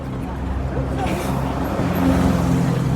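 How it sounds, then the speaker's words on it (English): Great Yarmouth bus passing on a street in Gorleston, Norfolk, a broad steady engine and road rumble that swells slightly as it nears, with someone talking over it. "it is the Great Yarmouth bus"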